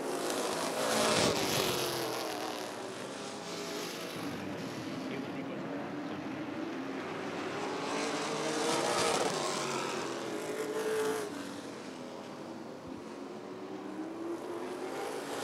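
Vintage race cars roar around an oval track at Rockford Speedway, engines droning continuously and swelling as cars pass close by, with a crowd-like wash underneath.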